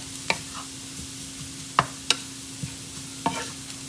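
Riced cauliflower being cooked into couscous in a pan: a few sharp scraping and tapping strokes of a utensil over a faint, steady sizzle, close by, with no voices.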